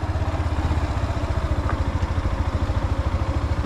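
A motorcycle engine runs on a practical driving-test course, a loud and close steady pulsing throb throughout, with no voices over it.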